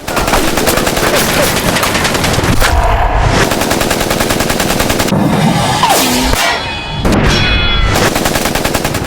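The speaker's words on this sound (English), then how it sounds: "Armed with weapons, Amar fired at the zombies." Gunfire aimed at zombies in an animated story: a loud, dense burst of rapid automatic shots that continues almost unbroken, with brief gaps, over a busy background.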